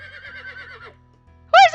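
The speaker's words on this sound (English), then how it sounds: "I hear a horse neigh." A horse neighs in a video game, a whinny followed by a short pause and then a louder, sharper neigh right at the end.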